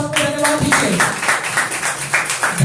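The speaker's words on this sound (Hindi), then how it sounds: "तो आइए इन सारे वचनों के लिए प्रभु को तालियों के साथ धन्यवाद दीजिए" A church congregation claps together during a Sunday service, a steady rhythmic wash of applause with a voice faintly under it.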